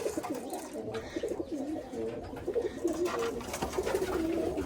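Pigeons coo continuously in a breeding loft near the end of breeding season, with several birds overlapping in a dense, rhythmic warble that stays close and steady throughout.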